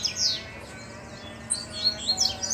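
A male and female pair of coleiro birds (seedeaters) outdoors give short, high, bright chirps and trills, one early burst and several quick calls near the end, over a quiet background hum.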